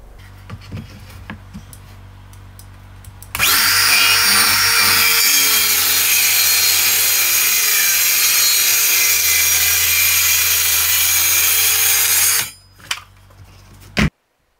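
A circular saw fitted with a foam weather-stripping guide rips a long cut through wood, a loud steady whine lasting about nine seconds before spinning down, with faint knocks and clicks before and after.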